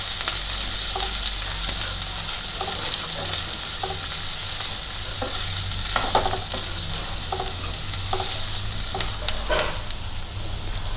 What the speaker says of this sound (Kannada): ಒಂದು 2ರಿಂದ 3 ನಿಮಿಷ ಫ್ರೈ ಮಾಡ್ಕೊರಿ.